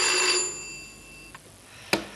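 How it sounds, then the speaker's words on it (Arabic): A telephone in a 1987 Lebanese television drama rings with a bright, metallic bell that fades out, followed by a couple of sharp clicks, heard close and alone with no talking. "ودق التليفون وقطع لنا الحديث."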